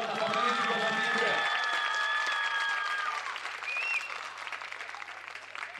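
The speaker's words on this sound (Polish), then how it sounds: "Proszę, brawa dla Mariusza Pruda." A beach volleyball crowd applauds player Mariusz Prudel at a Poland vs Germany match in Silesia, with a long wave of clapping beneath an announcer's voice that thins out toward the end.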